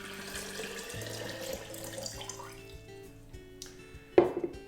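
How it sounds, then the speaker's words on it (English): Water runs steadily from a tap or is poured into a jug for making water kefir, a soft continuous trickle close by that ends with a brief louder splash and clink. "All you need to do is pour your water into your jug"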